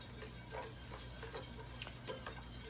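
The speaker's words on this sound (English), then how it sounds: "I'm going to continue to whisk it on this number 2." Eggnog mixture being whisked in a pot on low stovetop heat, with a soft, continuous scraping and stirring of the whisk against the pan, several slightly stronger strokes standing out over a steady low hum.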